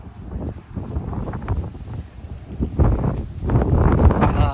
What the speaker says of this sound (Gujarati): પવન મજબૂત છે તમે અવાજ આવતો હશે